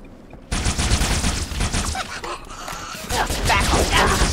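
Heavy gunfire in Halo 3: ODST bursts in loud after a quiet half second and keeps up as a dense, continuous fusillade of rapid shots and impacts, swelling again near the end.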